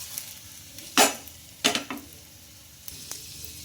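A wheat flour snack is turned in a hot pan with a spice tempering, soft frying sizzle broken by a few sharp stirring scrapes and clinks, close and alone.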